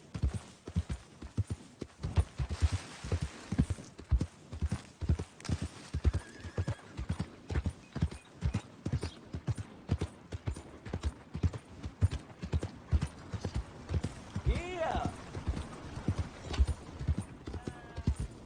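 Steady clip-clop of horse hooves in Red Dead Redemption 2 trots along in an even rhythm, with a horse's whinny rising briefly near the end.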